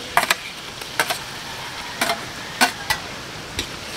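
Chicken sautés in a pan, heard as a few sharp scraping stirs spaced about a second apart over a faint, low sizzle, with no voices.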